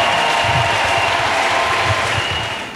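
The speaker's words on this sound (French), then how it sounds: "Let's clap for Jesus Christ" A church congregation claps for Jesus Christ in a dense, continuous wash of many hands, loud and sustained, easing slightly toward the end, with no clear voices on top.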